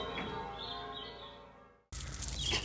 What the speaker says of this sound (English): Hear the bells now.